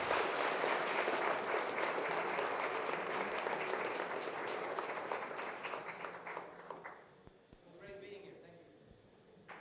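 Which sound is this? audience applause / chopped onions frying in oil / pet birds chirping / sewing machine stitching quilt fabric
audience applause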